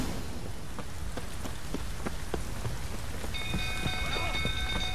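Steady rain patters and hisses in the Velen region of the video game The Witcher 3: Wild Hunt, with scattered individual drops heard clearly. A faint sustained tone enters partway through.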